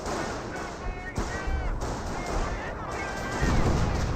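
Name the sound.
25-pounder artillery barrage in Company of Heroes video game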